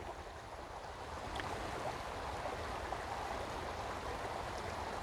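Small river flowing, a continuous soft rush and gurgle of water at moderate level, steady throughout with no voices.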